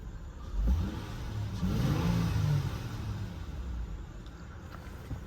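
A 2006 Honda Pilot EX-L with a J35 3.5-liter VTEC V6 and 169,000 miles cranks and starts, the engine catching and rising briefly before settling into a steady, close idle hum.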